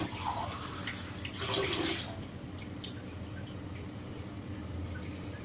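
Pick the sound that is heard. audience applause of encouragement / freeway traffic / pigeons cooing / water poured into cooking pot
water poured into cooking pot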